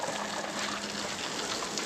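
Water running from a newly fitted outdoor shower, a steady, even hiss of flow lasting throughout, fairly faint and close, with no talk over it.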